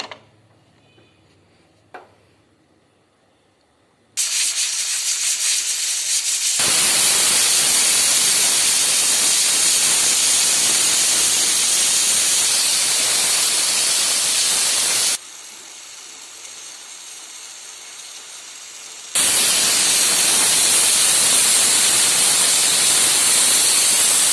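A closed pressure cooker of black chickpea curry vents steam in long, loud, unbroken hisses, starting after a quiet stretch with a couple of clicks, then briefly dropping in strength before surging again.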